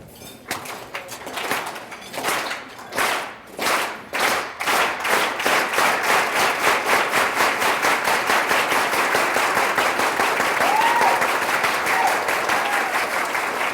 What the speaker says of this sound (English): So I want you to do that clap with me.